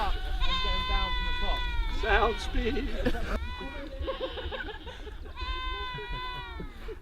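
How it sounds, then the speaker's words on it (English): Several goats bleat loudly and repeatedly close by, their wavering cries overlapping, while a person briefly speaks. "Quiet those goats down."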